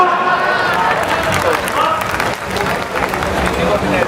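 Audience applause and clapping at a Hindi comedy poetry show (hasya kavi sammelan), a dense, steady wash of hands from a large crowd with some murmuring, filling the room continuously without a break.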